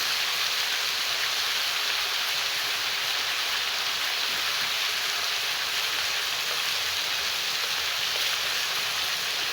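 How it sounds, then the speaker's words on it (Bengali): Steady rain falls during sunshine in a Padma riverside village, a continuous even hiss of drops on surfaces that holds at the same level throughout, with no voices. "এই রোদে বৃষ্টি।"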